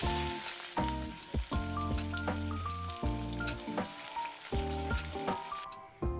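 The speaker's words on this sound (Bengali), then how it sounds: "তো 5 ফোড়ন আর শুকনো লঙ্কা ফোড়ন দেবো।" Panch phoron, dry red chilli and chopped onion sizzle in hot white oil in a pan, a close, steady frying crackle with a run of repeated sharp pops and stirring clatters throughout.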